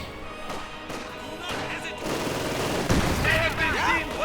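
Gunfire and explosions in the World War II strategy game Company of Heroes 2, with bursts of machine gun and rifle fire, crashes and thuds, mixed with a commentator's voice and brief whistling sounds near the end.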